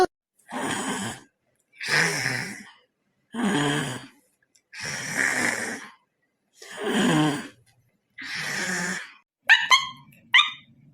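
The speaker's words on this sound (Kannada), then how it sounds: "ಇದ್ಯಾವ್ದ ನಾಯಿ ಬೈಗೆಟ್ಟದ್ದು?" A dog lets out six or seven loud, drawn-out barks or howling yelps at an even pace, each about a second long with short gaps, followed by a couple of quicker, sharper sounds at the end.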